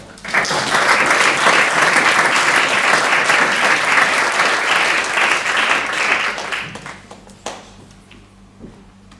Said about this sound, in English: Big applause for Deborah